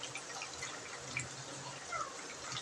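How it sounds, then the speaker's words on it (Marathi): Water poured into a bowl of soybean chunks, a soft steady trickle and splash, fairly faint and continuous, with no talk. "त्याच्यानंतर मी पाणी टाकत आहे"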